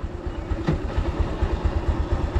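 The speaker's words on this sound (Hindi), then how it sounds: "लो RPM पे देखें इस बाइक को, लो RPM पे भी सही चल रही है" A Bajaj Pulsar 220 motorcycle engine runs at low RPM, a steady close pulsing thrum with a loose mechanical clatter and no voices.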